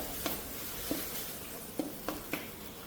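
Green curry paste being stirred in a pan over low heat for Thai green curry chicken: a soft, steady sizzle broken by a few sharp scrape-clicks of the spoon against the pan.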